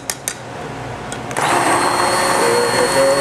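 Electric hand mixer beating eggs with garlic for potato pancakes, starting after a couple of clicks and then running as a loud, steady motor whir with a faint rising whine.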